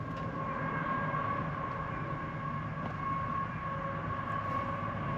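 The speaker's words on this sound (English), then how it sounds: "we've got a train coming" A train rumbles past at a distance near an abandoned gold-mining town in the outback, a steady low drone of rolling wagons with a faint tonal whine, no voices.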